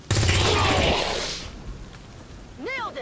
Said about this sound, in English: And into here, we'll take a flanking shot.